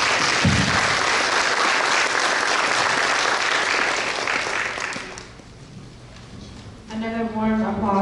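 An audience at a community event in Fresno applauds, a dense, loud wash of clapping that holds steady and then fades away, followed by a voice speaking over a microphone.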